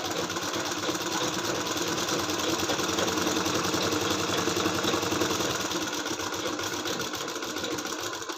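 A sewing machine runs steadily for about eight seconds, stitching a half-inch seam on palazzo fabric with a continuous, close mechanical whir and no pauses.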